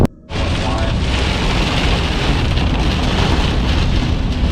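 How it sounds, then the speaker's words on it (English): Heavy rain pours down at a campsite after a destructive storm, a loud, steady, dense roar that holds constant from start to finish with no talk over it. "And the rain's coming down hard again right now"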